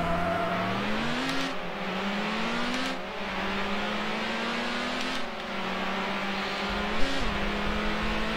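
A car's engine drones steadily and loudly in the racing game Need for Speed Hot Pursuit 2, its pitch climbing and dropping through several gear changes, with a brief bump near the end and no talk.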